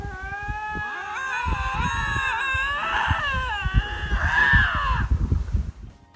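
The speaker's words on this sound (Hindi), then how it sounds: "ये लिंक्सिस का जोड़ा है, जो कि मीडियम साइज की एक वाइल्ड कैट होती है" A pair of lynxes, medium-sized wild cats, trade loud, drawn-out wavering yowls and wails that overlap and rise and fall, close by, ending in a few rough broken cries.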